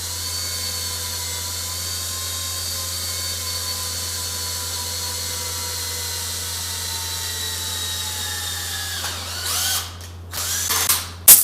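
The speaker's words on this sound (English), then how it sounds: "I'm going to get my 1/8 inch drill, and I'm going to drill through the aluminum and then also through the steel" A 1/8 inch drill bores through aluminum and then steel on a custom cargo carrier for a Honda Acty K truck, a steady close whine holding for most of the span before breaking into uneven bursts and a final spike.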